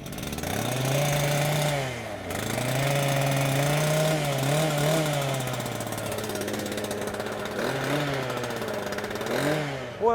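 A petrol-engined saw fires up and revs, its engine note rising and falling through several throttle bursts with a brief dip near the start, close and loud throughout.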